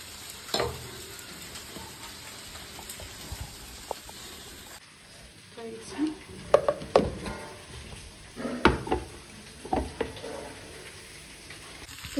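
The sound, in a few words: jackfruit frying in a pan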